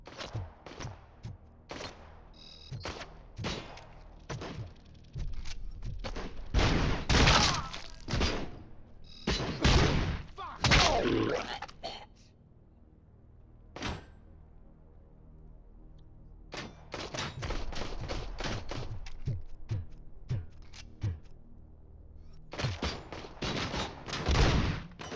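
Gunfire in the video game Robocop Rogue City rattles in loud, rapid bursts and volleys, broken by short pauses and a quieter stretch midway, with thuds among the shots.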